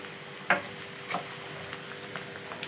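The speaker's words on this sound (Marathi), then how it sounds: "कांदा आपण यावरती तेलामध्ये परतवून घेतला आता त्यामध्ये एक चमचा भरून सो दोन हिरव्या मिरच्याचे बारीक तुकडे" Onion with green chilli pieces sizzling in oil in a pan, a steady close frying hiss with a couple of soft clinks from stirring.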